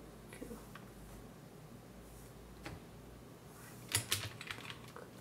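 Typing on an iMac keyboard into a search box: a faint, quiet room tone with a short burst of a few close key clicks near the end.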